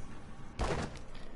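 A single heavy burst of gunfire in the Deadpool video game, a loud thumping blast that rises abruptly midway through and decays over a fraction of a second against quiet background noise.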